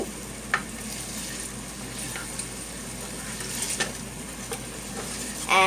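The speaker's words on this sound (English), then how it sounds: "I'm gonna stay like 6 minutes frying this, and yeah. While you continue stirring." Stew ingredients sizzle and fry steadily in a pan, a constant close hiss broken by occasional soft knocks of a stirring utensil.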